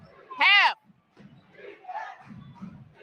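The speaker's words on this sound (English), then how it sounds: "Chant of defense from this homecoming crowd" A homecoming college basketball crowd in a gym chants defense with rhythmic, muffled group shouts, and a loud piercing shout or whistle cuts in early, heard from a distance in the stands.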